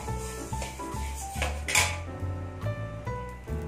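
Coriander seeds are dry-roasted in a metal pan for sambar powder. A spoon stirs and scrapes them, giving close, continuous clinks and rings of metal on metal, with no voices.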